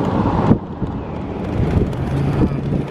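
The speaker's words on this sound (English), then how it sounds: "It's like a 40-mile-an-hour wind." Strong wind buffets a moving vehicle on an open road near oil fields, producing a steady, loud low roar with gusty thumps against the microphone.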